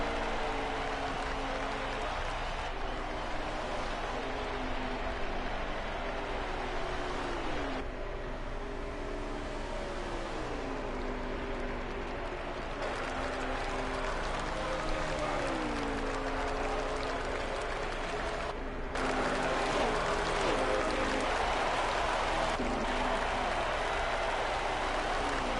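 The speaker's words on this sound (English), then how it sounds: "The fans are on their feet here at Texas Motor Speedway." A crowd cheers at Texas Motor Speedway in the NASCAR Heat 5 video game, a sustained broad roar of fans under droning race-car engines that rise and fall in pitch as cars pass, continuous and fairly loud.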